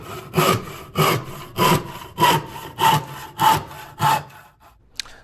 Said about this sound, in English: And here's 15 strokes with a rip.